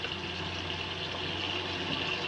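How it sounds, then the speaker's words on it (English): Water runs from a tap in a continuous, fairly quiet rushing stream with a low steady hum beneath, no voices present. "I got the water running"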